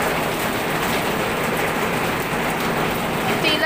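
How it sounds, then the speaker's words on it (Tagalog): Rain falls in a steady, dense hiss throughout, loud and even with no break, like a downpour close by. "Ulan dito."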